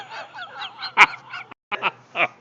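A chicken being chased squawks loudly up close, giving a rapid run of harsh honking cries with a short pause before another burst of calls.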